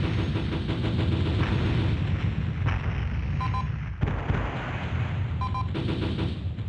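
A sustained burst of sci-fi weapon fire in a space audio drama, dense, booming and continuous, with a couple of brief high electronic chirps cutting through and one short dip in the barrage.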